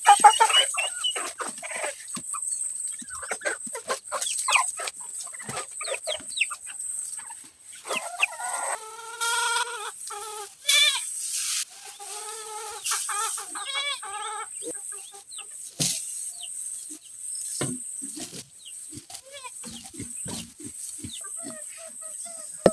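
Chickens cluck and crow repeatedly, some close and some farther off, with a steady high insect-like hum running underneath.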